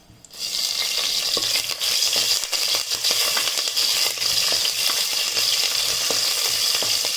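Green chilies dropped into hot oil with cumin seeds and pepper, bursting into a loud, dense sizzle after a brief quiet moment, then a steady bright hiss with occasional crackles.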